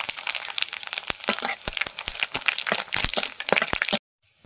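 Dry red chillies, mustard seeds and panch phoron sputter and crackle in hot oil in a Bengali kitchen, a loud, dense run of sharp pops lasting about four seconds before stopping abruptly.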